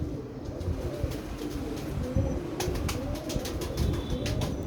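Low, repeated cooing from a pigeon murmurs steadily amid a busy background of flock noise and faint chirps, with no voices.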